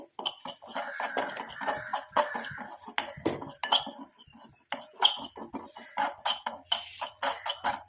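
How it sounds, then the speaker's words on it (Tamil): Tea powder dry-frying in a pan, heard as repeated scraping and clinking of a metal spoon against the pan in an irregular rhythm, close and fairly quiet, with no talking. "இந்த டீத்தூள் வந்து நம்ம நல்லா ஃப்ரை பண்ணிக்கலாம்"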